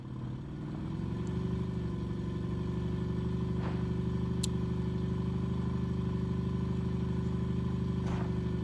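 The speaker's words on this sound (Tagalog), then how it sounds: "Malakas pala ang makina nito eh." RV engine running steadily while climbing a steep road, a loud, even low drone that builds in the first second and then holds, with a few faint clicks over it.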